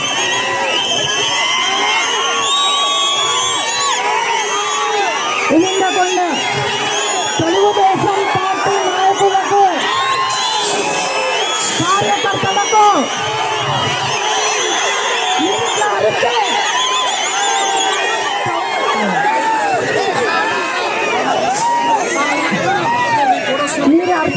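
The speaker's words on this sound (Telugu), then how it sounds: "అరుపులకు ఆ రమణారెడ్డి వినాలి కదండి" A dense crowd at a Telugu Desam Party political rally shouts and cheers loudly and continuously, with overlapping voices and bursts of louder cries throughout.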